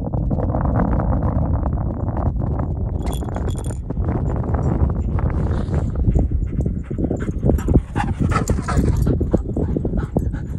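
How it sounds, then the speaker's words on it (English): Dogs during whistle recall training, older dogs alongside a 16-week-old pup, with busy rustling, scrabbling paws and panting close by, a brief tone near the start and faint clinks, no clear barking. "This is using the older dogs to teach the young dog recall to the whistle."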